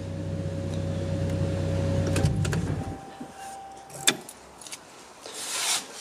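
Toyota Supra MK4 engine idling steadily close by, then shutting off and winding down to silence, followed by faint clicks and small handling noises in the quiet car.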